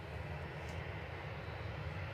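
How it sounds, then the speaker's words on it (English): An Iberia Express Airbus A320-200 arriving at Manchester Airport from Madrid, heard as a steady, broad jet engine roar, fairly distant and continuous throughout with no talk. "Coming in from Madrid. It's A320-200 ECILQ, flight 1891."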